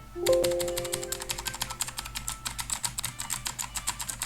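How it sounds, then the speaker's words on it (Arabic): A mechanical keyboard with blue switches clacks close up in rapid, crisp keystrokes with a sharp click on each press, following a brief tone at the start. "عايز اسمعكم كده صوت الكيبورد بتاعي."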